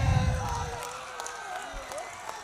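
Audience applause and cheering at a live stage event, a steady crowd wash of clapping and shouts throughout, fairly distant and continuous.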